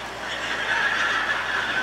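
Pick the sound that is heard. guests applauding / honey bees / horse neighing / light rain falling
horse neighing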